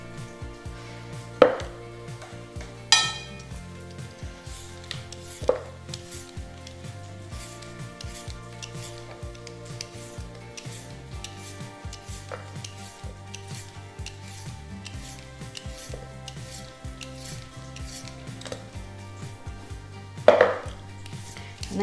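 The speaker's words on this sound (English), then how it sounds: "I'm going to peel some carrots." Carrots are peeled into cabbage in a kitchen, a steady run of soft, close scraping strokes with a few louder knocks and clatters along the way.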